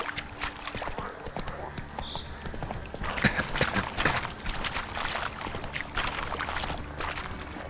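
Roach the horse in The Witcher 3 trotting along with close, steady clip-clopping hooves, a fairly quiet rhythmic beat over soft ambient outdoor noise.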